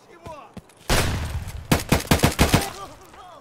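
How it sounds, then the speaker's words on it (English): Many gunshots ring out in the video game Escape From Tarkov, a rapid burst of loud, close shots stacked in a quick irregular volley, followed by a few lighter trailing sounds. "Lot of shots."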